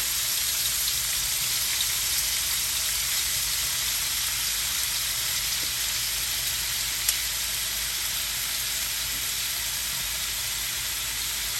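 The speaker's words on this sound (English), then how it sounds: "I'm gonna go in with my meat, and I'm gonna cook this slow and slow." Beef frying slowly in about a tablespoon of oil in a pan, a steady, even sizzle that holds at the same level throughout with no speech.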